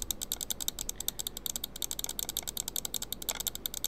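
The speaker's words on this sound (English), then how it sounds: "you getting tortured right now by the clicking noises" Rapid, regular clicking taps in a close, quiet setting for ASMR, crisp mechanical clicks repeating steadily at about a handful per second with no voices.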